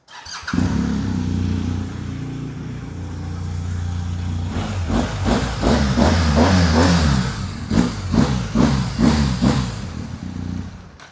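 A 2023 BMW R1250GSA motorcycle engine idles steadily, then revs repeatedly in short bursts, loud and close, with no talking.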